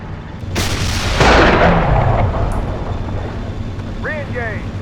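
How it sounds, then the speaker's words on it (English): Tank gunfire in the Steel Beasts simulator game: a heavy boom followed by a rolling rumble over a constant engine drone, with someone talking and brief radio chatter. "I don't know what's shooting at us right now."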